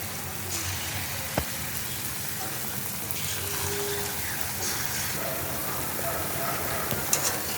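Round banana fritters made with date palm jaggery fry in oil, a continuous even sizzle and crackle with an occasional faint tap from the pan.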